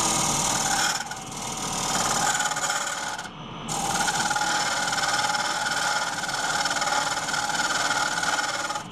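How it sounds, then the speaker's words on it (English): Cherry wood spins on a lathe while a long, metal-handled round carbide tool cuts into the bottom curve, making a steady, loud rasping scrape over motor hum that briefly eases twice. "switched to my long, metal-handled round carbide to round out the corner in the bottom"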